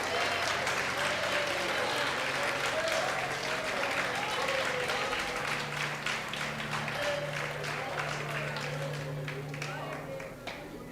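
A church congregation bursts into sustained applause during a sermon on the resurrection, a continuous wash of clapping with voices and a held tone underneath, fading slightly toward the end.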